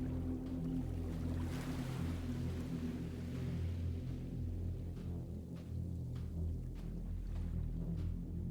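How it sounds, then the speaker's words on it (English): Water sloshing below a huge hole in the ground in the Signalis video game, a steady low rumbling wash with gentle surf-like swells and soft wind, moderately faint and continuous. "I can hear the sound of water below."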